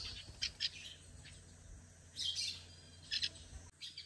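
Birds out in the open eat boiled eggs, giving a few short, faint chirps scattered over a low background hum with no voices.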